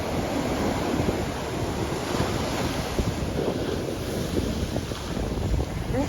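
Ocean surf at Montego Bay during a cold front rolls on as a steady, loud roar, with heavy wind buffeting the microphone throughout and no voices.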